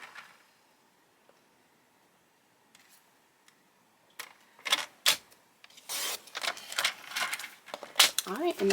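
Paper trimmer slicing through cardstock: a quiet start with a few faint ticks, then a run of sharp, close scraping cuts and clicks growing busier and louder toward the end.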